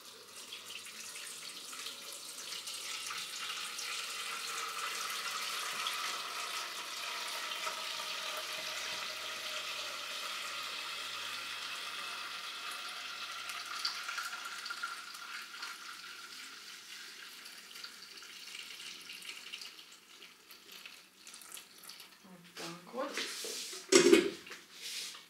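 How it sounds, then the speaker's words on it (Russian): Hot broth for pickle-and-barley rassolnik soup pours through a sieve in a kitchen, a long, steady watery rush that swells and eases, ending with a few clinks of the pot. "Поэтому я бульончик процеживаю. Аккуратно, потому что он горячий."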